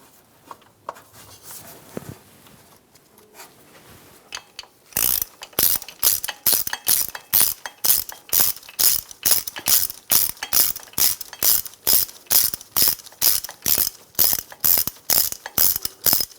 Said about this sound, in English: we can tighten these two bolts down